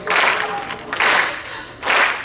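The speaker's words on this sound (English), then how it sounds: "It's still a ritual of clapping." Ritual clapping by a crowd at a religious gathering honoring the birth of Imam Reda, coming in three loud, sustained bursts of dense applause-like claps.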